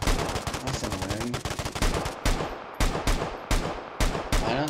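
Gunfire in the Vigor video game: a rapid burst of close, loud shots, then a string of separate single cracks at steady intervals, each with a short echo tail.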